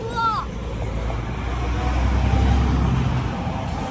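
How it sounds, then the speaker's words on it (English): A big truck passes on a road, its low engine rumble swelling and fading steadily under broad outdoor traffic noise, with a brief voice at the start. "Big truck."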